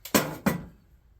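Two quick, sharp snips of cutters cutting off wire, close and crisp, with a brief ring fading after each cut and nothing else around them.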